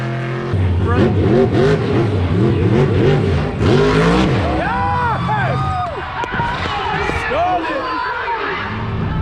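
Big monster truck engines roar and rev repeatedly, rising and falling in pitch as the trucks accelerate nearby at a Myrtle Beach monster truck show, loud and continuous.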